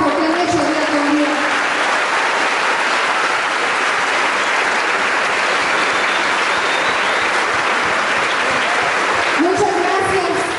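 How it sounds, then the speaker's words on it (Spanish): Loud, sustained applause from a large crowd at a school building inauguration, steady clapping filling the whole stretch, with brief voices at the start and end. "Este aplauso es para el esfuerzo merecido del trabajo que han hecho día con día"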